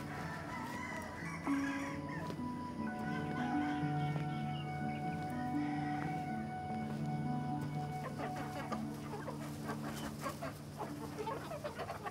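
Free-range chickens in a coop cluck steadily and a rooster calls, a busy overlapping chorus of nearby fowl throughout, with sharper clucks toward the end and no speech.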